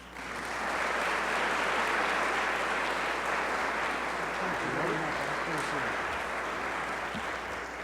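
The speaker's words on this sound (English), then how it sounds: "And so hearty applause and welcome for our president, our CEO, our fearless leader, Roland Maurer." An audience at a corporate state-of-the-port address breaks into sustained, hearty applause for the company president, a dense, even roar of clapping throughout.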